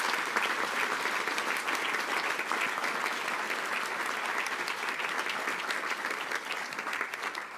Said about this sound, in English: So let's give them another great round of applause.